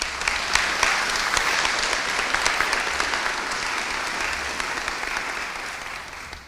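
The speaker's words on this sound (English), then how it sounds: "Another round of applause for them" An audience applauds steadily at a tribute event, a dense, continuous wash of many hands clapping that stays loud and even before easing slightly toward the end.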